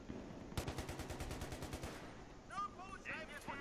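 Rapid machine-gun fire in the multiplayer shooter Battlefield 3, a loud, close burst of evenly spaced shots lasting about a second and a half, followed by quieter battle noise and distant chirping sounds.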